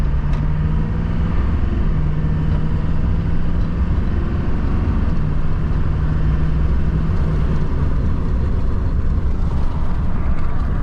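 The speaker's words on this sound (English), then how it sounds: "Here's the acceleration from a stop." A Duramax diesel pickup truck pulls away from a stop, its loud, steady engine drone with low rumbling harmonics filling the cab continuously while it gathers speed.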